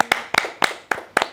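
Five sharp, evenly spaced hand claps ring out in quick succession, close and loud, at a brisk rhythmic pace with no voices.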